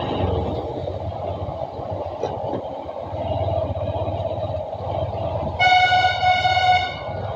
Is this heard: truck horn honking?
yes